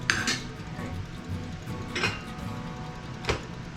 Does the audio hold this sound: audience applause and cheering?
no